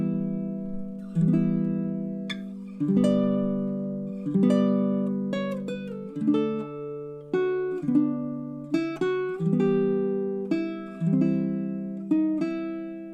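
A baritone ukulele picks out a Greensleeves chord melody, with clear plucked strums and single notes ringing and decaying in a slow, steady waltz-like phrase, played alone at close range.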